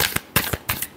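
Tarot cards shuffled by hand in a few quick riffling bursts, a short crisp rhythmic flutter close by, with no speech.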